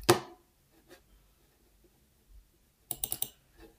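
A mouse click on the OK button in trading software, heard as a sharp single click at the start, then a quiet pause and a brief burst of soft clicking near the end.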